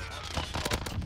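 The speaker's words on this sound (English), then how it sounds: "Let me toss a C4" A C4 charge detonates in Modern Warfare, giving short, dense explosive bursts over constant game noise, with a voice speaking faintly underneath.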